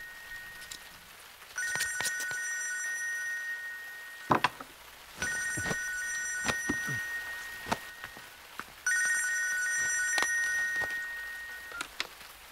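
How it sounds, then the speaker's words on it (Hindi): A telephone ringing in a Hindi-dubbed South Indian action movie scene: three long electronic ring bursts with pauses between, over faint background rain and a few sharp knocks. "जरा फोन तो उठाओ।"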